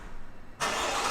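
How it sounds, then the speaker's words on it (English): Engine of a 2021 Cadillac Escalade SUV starting via the key fob, a brief quiet moment followed by an abrupt catch into a steady, loud, full-bodied idle, heard close and without voices. "What you can do to start up the car is press this on the key"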